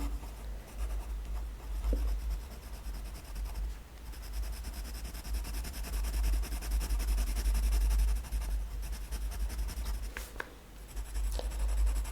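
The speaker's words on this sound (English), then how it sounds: "Now this is a 2H pencil." 2H pencil shading on paper, a continuous close scratchy rubbing of graphite strokes with small pauses and soft knocks, steady and moderately loud with no talk.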